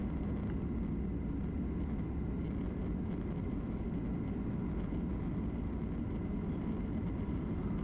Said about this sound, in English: we're taxiing to Icelandair's home at Terminal 7